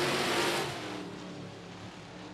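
Race trucks roar off the green flag start at I-37 Speedway, a loud, dense wall of engine noise that peaks early and then holds steady as the pack accelerates away.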